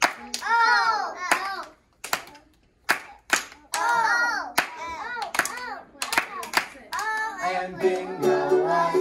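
Children at a music showcase clap along in a counting song, sharp grouped claps between bursts of sung and spoken children's voices, the claps punctuating the singing in short sets.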